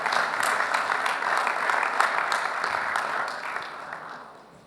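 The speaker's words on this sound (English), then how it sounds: "let's give a big round of applause and welcome on stage Mr. Yusuf Hamisi Abubakar" Audience applause welcoming a speaker onto the stage at a plenary conference session: a full, even round of clapping from a large hall that holds steady, then tapers off over the last second.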